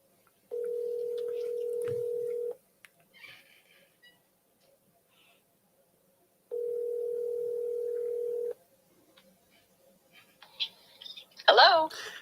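A phone call is being placed, and two long steady ringback tones sound about four seconds apart. Faint background noise fills the gaps, and a voice speaks briefly at the end.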